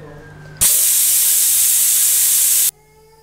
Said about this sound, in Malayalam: ഇപ്പം 5 വിസിൽ വന്നിട്ടുണ്ട് കേട്ടോ.